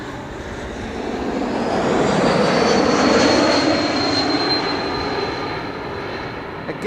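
A KLM Embraer E195-E2 airliner arriving at Amsterdam Schiphol roars past as a broad jet rumble, swelling to a peak mid-pass and then easing off, loud and fairly close, with a thin engine whine riding on top.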